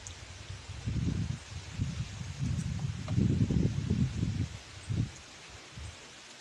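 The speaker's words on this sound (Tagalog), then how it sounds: "Lakas ng hangin, parang uulan dito sa amin ngayong hapon." Gusts of wind sweep through leaves, swelling into soft rustling bursts that rise and fall, fairly close, with no talking.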